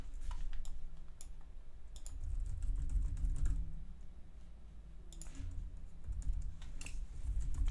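Typing on a computer keyboard during a Fall 2021 programming lecture: two quick bursts of soft key clicks, fairly near, separated by a pause and set over a low room hum.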